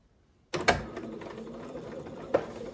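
Domestic sewing machine running a short burst of stitching into the corner of an embroidered face mask seam, a steady close mechanical whir starting after a brief silence with a sharper clack near the end.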